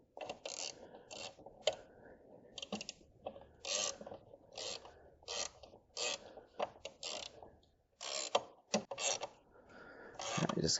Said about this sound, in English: I just get a few cranks so it'll hold this down